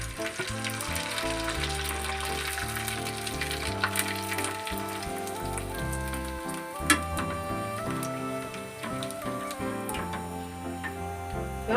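Boiled rice vathal frying in hot oil, a steady close sizzle with dense crackling and popping that continues without pause throughout.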